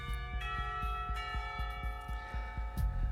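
In the visual novel Katawa Shoujo, a school bell rings with a rapid, even series of metallic strikes over a sustained ringing tone, loud and close, with no voices.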